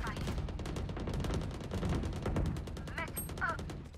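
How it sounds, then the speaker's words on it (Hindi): Rapid gunfire in a tactical shooting video game, dense repeated shots running continuously and loud, with a few short electronic cues and voices talking over it. "पहली गोली फायर होनी चाहिए तेरी"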